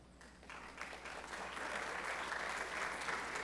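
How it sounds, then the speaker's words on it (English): An audience claps at a senior scholarship ceremony, the applause starting sparse and swelling into steady, dense clapping that fills the room at moderate distance. "It's okay if you want to clap."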